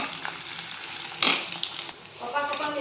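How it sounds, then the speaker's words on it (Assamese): Onions frying in a pan on low gas for a pork curry give a steady hiss of sizzling, with a brief louder burst of spatter partway through. "মই ৰঙচুৱা হোৱালৈকে পিঁয়াজখিনি ভাজি ল'ম অলপ"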